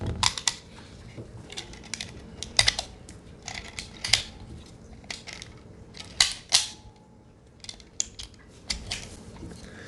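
9mm brass rounds pressed by hand into a brand-new P80 Glock-style magazine give a series of sharp metallic clicks and snaps at irregular intervals, close and crisp over a quiet background.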